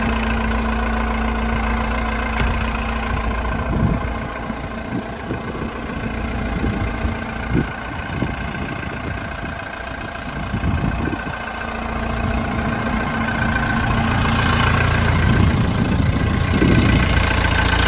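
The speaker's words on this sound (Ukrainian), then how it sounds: "Ось так працює двигун." The diesel engine of a 1997 JCB 527-58 telehandler idles with a loud, steady low rumble and rhythmic knock, swelling slightly near the end, with no one talking.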